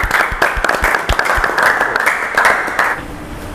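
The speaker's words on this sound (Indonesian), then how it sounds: "Boleh tepuk tangan untuk kelompok 1" An audience claps for presentation group 1 in an automotive engineering class, a short burst of loud, close applause that fades out after about three seconds.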